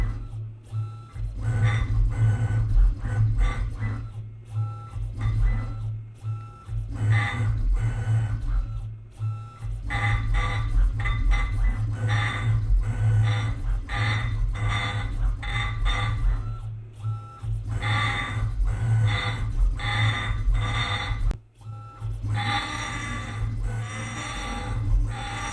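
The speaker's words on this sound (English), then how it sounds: "goes down until it touches the stone, and then it starts engraving" A DiamondEdge impact etching machine engraving stone, giving a steady mechanical buzzing hum with rapid rhythmic tapping pulses that continue almost without break, with a couple of brief pauses, loud and close.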